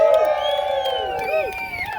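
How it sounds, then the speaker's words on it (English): A crowd cheers and whoops loudly at the end of a barbecue championship, with high rising shouts over a steady noisy backdrop of clapping and voices. "Big round of applause for everybody."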